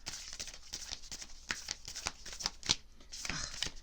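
Large tarot cards are shuffled by hand nearby, a string of soft papery riffles and slaps in quick uneven bursts, fairly faint and alone.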